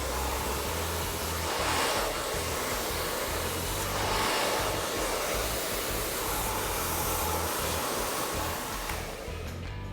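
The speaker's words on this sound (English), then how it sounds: "I'm just gonna blow dry that in and get it dry with a little bit of movement" A hair dryer roars loudly and steadily at close range while hair is blow-dried with a large round brush, its airflow wavering slightly as the nozzle moves, with no one speaking.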